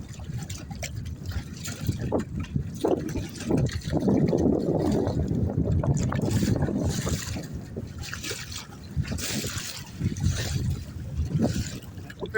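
Big waves slosh and splash around a small fishing boat on open water in the fall, a continuous churning wash with occasional heavier surges, close and moderately loud.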